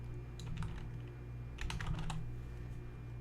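Someone types on a computer keyboard up close, with two quick bursts of clicking keystrokes over quiet room noise.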